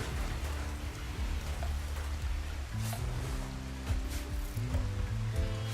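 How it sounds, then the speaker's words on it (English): Steady rain patters and hisses throughout a session of the video game Rimworld, with soft game music tones layered underneath at a moderate level. "Okay, well, it is raining."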